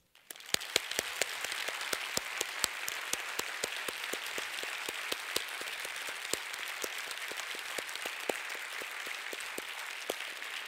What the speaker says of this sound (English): I would like all of us to give an enormous applause to Hans Rosling.